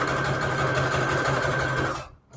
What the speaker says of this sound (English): Use your sewing machine.